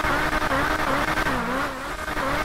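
McLaren sports car in GTA 5 revving loudly, a harsh buzzing engine note rising and falling in quick pulses, close and dominant throughout with tire-like squeal.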